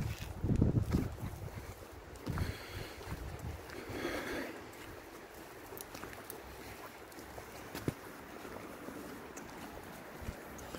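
Wind gusts across the microphone on an outdoor dog walk, a loud buffeting burst at the start and then a steady, rough rushing that keeps on through the rest, with no voices.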